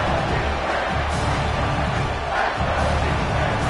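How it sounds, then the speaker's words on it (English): Home crowd roaring at Autzen Stadium during a college football game on third down, a dense, loud, unbroken wall of cheering that holds steady throughout. "Man, this crowd really affecting the football game."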